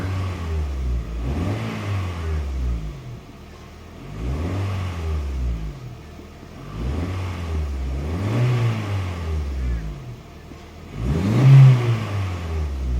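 A Honda Fit engine with a P0335 crankshaft sensor fault revs up and settles back repeatedly in steady cycles, a smooth mid-pitched whir rising and falling about every three seconds, close and clear with no talking.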